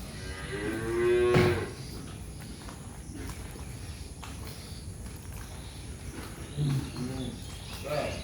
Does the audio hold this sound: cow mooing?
yes